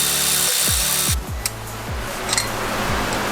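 Bracket being unbolted from the intake manifold of a 2017 WRX STI: close metallic tool noise, with about five quick rasping ratchet strokes in a row under a steady hiss.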